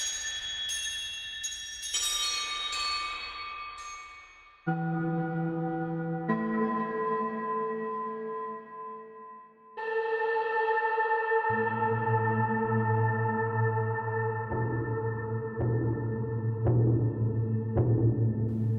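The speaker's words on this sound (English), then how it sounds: "xylophones and chimes and animal skin drums and things like that, but they treated them and kind of synthesized them" Synthesized xylophones, chimes and animal-skin drums: shimmering, processed tones like chimes and mallet bells ring out in shifting layers, later joined by a deep, pulsing drum-like rhythm; loud, continuous and heavily effected.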